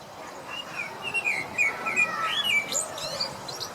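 A male blackbird sings in a city park, its fluted, warbling phrases rising and falling over soft background rumble, with a few higher chirps near the end.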